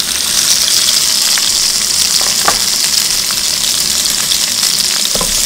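Cherry tomatoes sizzle loudly in a hot pan with garlic and olive oil, a dense, continuous frying hiss with faint stirring clicks and nobody talking.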